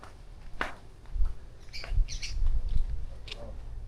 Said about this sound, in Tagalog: Ayun, daming ibon oh. Anong ibon to? Ang dami, ano to, lovebirds?